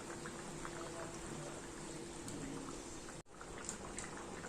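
A curry of fish roe simmers in a pot, giving a quiet, steady bubbling and sizzle with one brief dropout near the end.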